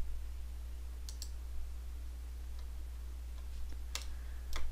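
A computer mouse clicking in a quiet room, several faint, sharp clicks, some in quick pairs, over a low steady electrical hum.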